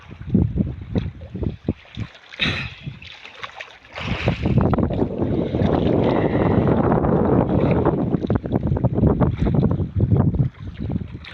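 Wind buffets the microphone outdoors at a fishing spot, a rough low rumble that swells and stays strong through most of the stretch.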